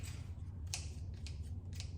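A pair of scissors is handled close by, giving a few faint metallic snips and clicks spaced irregularly over a low steady hum, with no voices.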